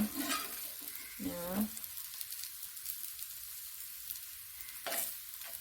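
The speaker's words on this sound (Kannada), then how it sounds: "ಈ ಥರ ಫ್ರೈ ಮಾಡಿ" Root jackfruit pieces fry in a pan with a steady, soft sizzle throughout, broken by a few brief scraping stir sounds near the start and near the end.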